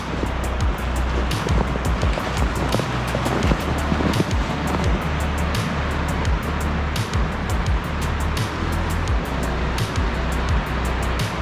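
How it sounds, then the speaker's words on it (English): A strong gust of wind roars past a riverside trail near an abandoned mill town in Darrington, Washington, a loud sustained rush with buffeting thumps against the microphone and a churning river beneath, no voices. "I feel a big gust of wind coming."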